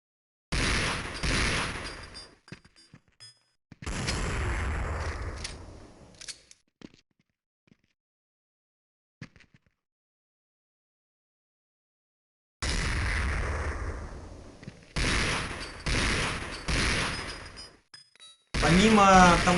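Gunfire from the Counter-Strike 1.6 video game, with dense bursts of shots in several loud clusters separated by long near-silent gaps, with a voice talking at times.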